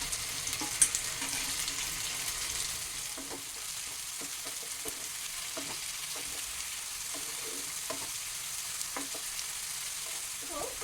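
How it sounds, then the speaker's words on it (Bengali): Small kachki river fish fry lightly in oil with onion and garlic, giving a soft steady sizzle with occasional light scrapes and taps of stirring, fairly quiet and close; no speech. "সেই মাছগুলো এখানে একটু হালকা করে ভেজে নেব"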